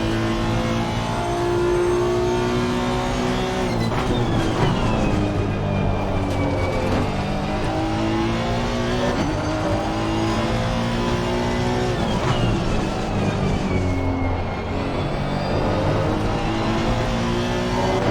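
A Honda race car engine in a racing game drones loudly and continuously, revving up and down through gear changes as it accelerates and brakes through corners, close and steady with no voices.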